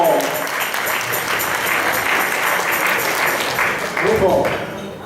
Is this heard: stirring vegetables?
no